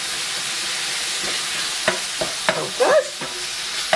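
Mince frying in a hot pan, a steady close hiss of sizzling with a few sharp crackles and stirring scrapes near the end, and a brief spoken remark.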